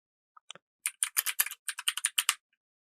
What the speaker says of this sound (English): And you just start typing